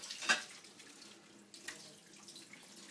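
Soaked rice gets rinsed in water, giving a faint splash and trickle of running water with one brief louder splash near the start and a smaller one later, quiet and close, with no talking.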